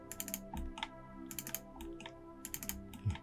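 A computer keyboard is typed on in short, irregular bursts of light clicking keys during 3D modeling of an antique-style wall lamp, quiet and close, with faint background tones and no speech.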